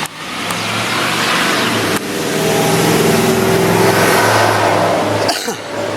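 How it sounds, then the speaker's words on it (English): A UPS delivery truck races close past with a loud, sustained engine roar that swells and fades, then rises again briefly near the end. "UPS is racing around here like they got somewhere to go"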